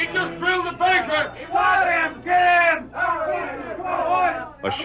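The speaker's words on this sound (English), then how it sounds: "A shouting, yelling crowd streamed down the main street of Lobo City." A shouting, yelling crowd streaming down the main street of a Western town, many voices bellowing and clamoring in loud, surging waves that swell and ebb without pause.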